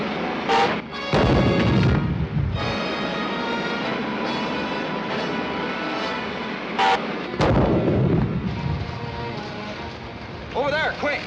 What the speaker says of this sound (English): Man the ray gun and blast them.